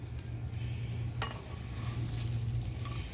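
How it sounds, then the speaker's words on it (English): Bacon is spooned into a pot of cowboy beans, with close metal scraping and stirring against a quiet sizzle that continues steadily throughout. "I'm going to spoon the bacon in"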